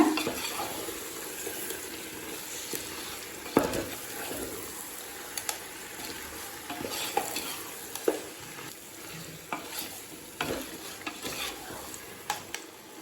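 Marinated chicken sautéed with salt in a pot for chicken biryani, a steady sizzle under repeated spoon scrapes and stirring knocks against the metal, close and uneven.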